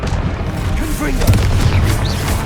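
A Confringo blasting spell explodes in Hogwarts Legacy, giving a deep, booming blast over a shouted spell incantation.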